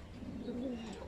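A pigeon gives a single soft, low coo, brief and faint against quiet room background.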